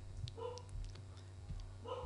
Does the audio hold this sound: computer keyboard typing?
no